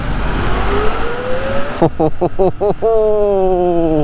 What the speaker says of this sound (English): So we'll start accelerating on the combat mode.